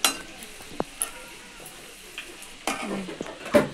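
Chopped garlic, ginger and onion for chilli chicken fry in a pan with a soft, steady sizzle, broken by a few sharp clinks and scrapes of a spoon stirring against the metal.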